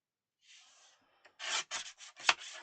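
Cereal-box cardboard is trimmed for a junk journal craft: a faint first pass, then several short, crisp cutting strokes in quick succession, close and quiet.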